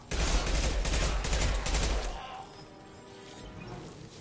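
Rapid gunfire in the video game Mass Effect 2, a loud dense burst of automatic shots for about two seconds that then cuts off, leaving quieter background game sound.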